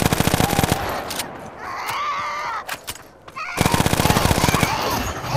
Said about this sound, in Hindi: ओके अब मैं गन निकालता हूँ, जब वो सामने से आएगी मैं साथ के साथ इसको गोलियाँ मारनी शुरू कर दूँगा।